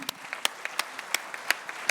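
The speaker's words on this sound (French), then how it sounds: "messieurs, dames, je pense que ça s'applaudit" An audience at an industry trophy ceremony applauds award winners, a sparse, distinct patter of individual claps rising as sharp isolated hits over a quiet room.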